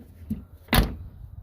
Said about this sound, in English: Door shuts great.